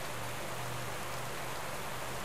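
Steady rain in the cycling game Vuelta a España 2016, a continuous broadband hiss of falling water with a faint low hum beneath, even and unbroken throughout.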